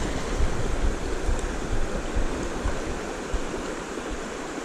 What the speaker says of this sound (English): And we're right in between two sets of rapids.